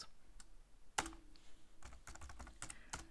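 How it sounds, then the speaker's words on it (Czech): Keystrokes on a computer keyboard as Python code is entered, a quiet run of irregular clicks with one sharper tap early on, no voices. "napíšu klíčové slovo del a za něj to, co chci smazat"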